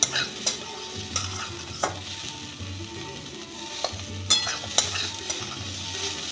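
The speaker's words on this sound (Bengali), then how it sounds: "আলুটা দিয়েও আমি আরেকটু ভেজে নেব।" Finely chopped potatoes fry in a pan of hot oil with a steady sizzling hiss, punctuated by sharp scrapes and knocks of a spatula stirring them, close and without talk.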